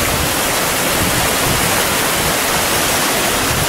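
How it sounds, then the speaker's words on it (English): Queen Mary Falls in a Queensland, Australia ravine roars as a steady, loud, close wash of falling water, a dense unbroken rush with no voices over it. "that mist coming off that waterfall"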